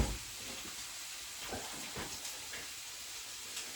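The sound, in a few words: food frying in a hot pan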